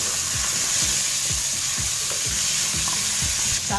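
Chicken sizzles in a cooking pot under a loud, constant frying hiss, while a spoon scrapes the bottom in regular, rhythmic strokes about twice a second.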